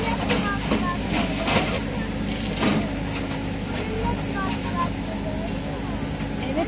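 A tractor or heavy earth-moving machine works at a construction site, dropping stones. Its steady diesel rumble and rattling clanks run throughout at moderate distance, with faint voices in the background.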